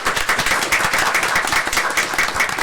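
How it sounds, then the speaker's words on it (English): Applause at a city commission workshop and meeting in South Bay, Florida, with distinct individual claps close by in a loud, fairly even patter from a modest crowd. "a round of applause"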